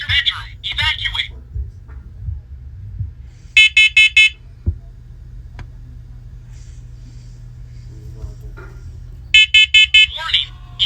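A fourth-generation smoke and carbon monoxide alarm gives two bursts of rapid high-pitched beeps, each a tight cluster of short tones, alongside a low steady hum and brief talk.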